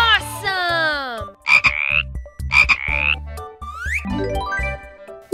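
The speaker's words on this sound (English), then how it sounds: "And they make a croaking sound. Correct! It's a frog!" A frog croaking loudly and close in a children's animal guessing game, a series of harmonic rising and bending calls broken into several bursts, alone with no talking.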